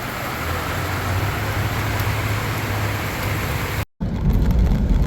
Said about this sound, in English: All of a sudden the rain started coming down.